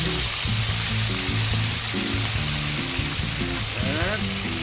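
Meat sautéing in hot oil with doubanjiang chili bean paste for an eggplant dish, a steady close sizzle and crackle that runs throughout, with low tonal sounds underneath.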